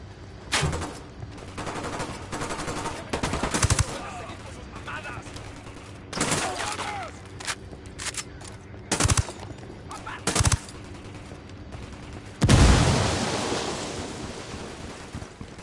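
Bursts of automatic gunfire and single shots in the Ghost Recon Wildlands video game, spaced irregularly with loud sharp cracks amid wind and ambient surf-like noise, one heavy blast near the end.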